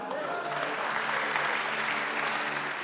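Audience applause fills a men's camp church service, a dense, steady wash of many hands clapping at even loudness throughout.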